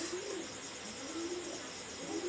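A small Pakistani high flyer pigeon coos in soft, low rolling phrases, repeated a few times against a steady bed of insect-like hiss and background noise.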